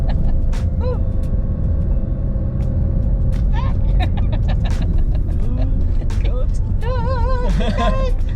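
A car drives along with its engine and road noise droning steadily from a dashboard-mounted GoPro, while people talk inside the cabin and birds chirp faintly outside.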